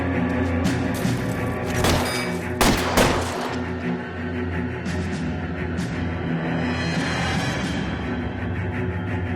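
Gunfire in an L.A. Noire shootout, with sharp shots in a burst early on and then more scattered reports. Other game noise sits under the shots, which echo in a loud, cluttered way.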